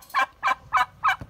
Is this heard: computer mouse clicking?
no